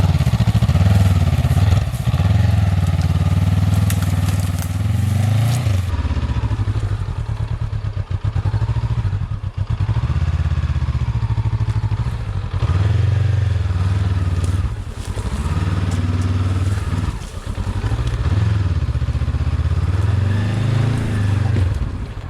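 Honda CB500X and Royal Enfield Himalayan motorcycles ridden offroad, a loud, close engine drone that rises and falls with throttle changes, with bumps and clattering from the rough terrain throughout.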